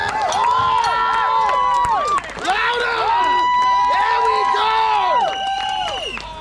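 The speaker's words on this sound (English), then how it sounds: "give them a round of applause as we head off into our 3rd and final deciding round!" A crowd at an outdoor rugby-style sports match roars with loud, sustained cheering and shouting, rising and falling in waves, with clapping blended underneath.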